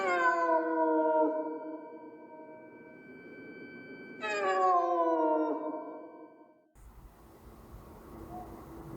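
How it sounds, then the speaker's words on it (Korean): Two long, drawn-out meows, one at the start and another about four seconds later, each fading slowly, followed by a low rumbling background, heard at a tunnel entrance. "말고기 터널을 진입하려고 할 때 고양이 소리가 들리더래요"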